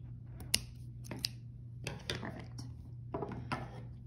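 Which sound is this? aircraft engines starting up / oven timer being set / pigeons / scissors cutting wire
scissors cutting wire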